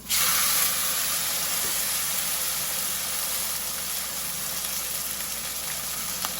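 Seasoned pork chops hit a hot pan with a sudden loud sizzle that settles into a steady, bright, close hiss lasting throughout, with no talking over it.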